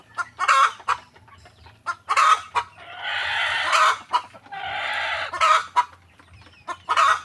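Backyard chickens in an open yard clucking and squawking in scattered bursts, with a rooster crowing twice in longer calls, fairly close and with no talking.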